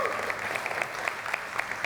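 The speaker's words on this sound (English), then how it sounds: "Can we give one more round of applause for Irene?" Audience applause at a conference session on developer tooling, a steady wash of many hands clapping, fairly even and moderately loud throughout.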